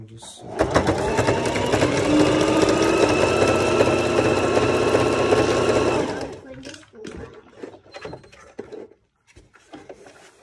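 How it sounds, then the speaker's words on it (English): A sewing machine stitches a homemade face shield in one steady, loud whirring run of about six seconds, then stops, followed by quieter handling and scattered clicks. "So then we come back to our sewing machine."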